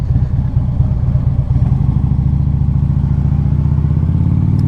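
A 2014 Harley-Davidson Electra Glide on the move, its engine giving a deep, loping rumble that rises steadily in pitch as it accelerates, loud and close under rushing wind, with no voices.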